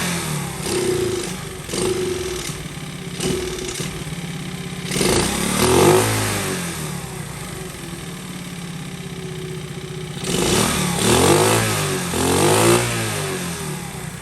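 A small Michigan camp motorcycle, running rough on choke, revs up in repeated bursts, several short blips and then two longer throttle pulls, over a steady near idle, with no talking.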